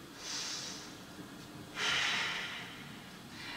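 Deep, slow breaths during a yoga class, two long audible exhales through the nose and mouth, close and breathy, separated by a quieter pause with no talking.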